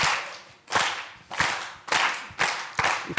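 A lecture audience performs a rhythmic novelty clap, five loud group bursts spaced evenly about every three-quarters of a second, each striking together then decaying, with no talking.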